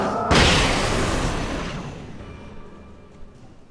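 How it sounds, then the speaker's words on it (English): A single loud flashbang grenade blast in the game Alan Wake, a sudden near boom that decays into a long rumbling tail, heard with no talk over it. "Drop a flashbang like you just saw."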